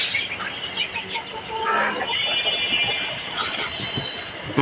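A native black hen clucks softly at a farm among her brood of young black chicks, whose faint peeping mixes with steady background noise for a few seconds.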